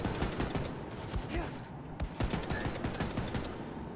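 An automated turret in Wolfenstein 2 fires rapid, dense bursts of gunfire that run almost without pause for four seconds, loud and close, with a voice briefly audible over the shooting.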